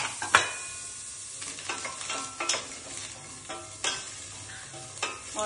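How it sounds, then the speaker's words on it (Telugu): Green chillies, cumin and mustard seeds dry-fry without oil in an AMC cookware pan, giving a steady close crackle and sizzle broken by repeated scraping stir strokes, with no talking. "ఆయిల్ లేదు అయినా ఇవి మంచిగా సాఫ్ట్ గా ఫ్రై అవుతున్నాయి చూడండి."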